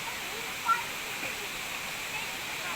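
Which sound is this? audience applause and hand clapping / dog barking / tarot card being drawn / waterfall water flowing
waterfall water flowing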